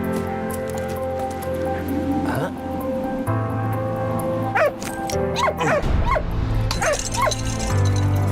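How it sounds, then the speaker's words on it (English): A dog in the World War I video game Valiant Hearts yips, whimpers and barks in short bursts over game music, and someone talks intermittently. "Oh, poor doggy."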